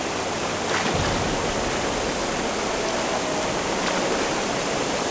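A waterfall in the video game Gothic 1 Remake makes a constant, loud, even rush of broadband water noise, steady throughout with no talk.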